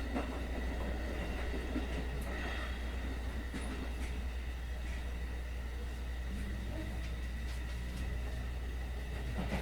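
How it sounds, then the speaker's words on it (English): Steady rumble of an express subway train speeding past stations, heard from within the car, with a deep constant drone and intermittent wheel clatter and clicks across the whole stretch. "The express subway train was passing stations, one after the other"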